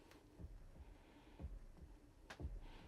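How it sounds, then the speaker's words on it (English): A low, muffled heartbeat thuds in slow repeating pairs beneath steady hiss and crackle of vinyl surface noise, from Pink Floyd's Dark Side of the Moon on vinyl. "as the heartbeat comes in"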